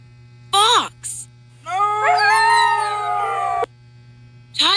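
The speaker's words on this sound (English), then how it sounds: "fox" A wild fox calls with high, wailing howls: a short sharp cry and a brief second yelp, then one long sustained wail, with another cry starting at the end. The calls are loud and close over a low steady hum.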